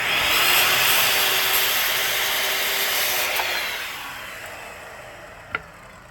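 Pallet wood board being cut with a saw, a dense broadband rasping that runs loud and steady for about four seconds, then fades, ending with a single sharp knock.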